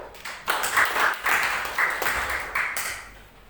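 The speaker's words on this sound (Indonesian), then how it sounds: "Mari kita beri tepuk tangan untuk Tuhan." A congregation claps during Sunday worship at GKRI Agape Bitung church, in a few short bursts of hand clapping that swell and fade, growing quieter toward the end.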